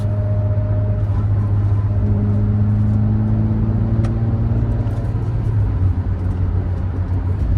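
A 1986 Mercedes-Benz 190E-16V with dogleg manual transmission driving along, its engine droning steadily with a low rumble and a rising tone under acceleration, heard continuously from inside the car.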